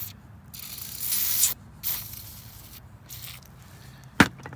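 Several bursts of hissing aerosol spray as PB penetrating lubricant is sprayed into a 1964 GMC cab-over truck, the longest lasting about a second, followed by a sharp metallic tap near the end.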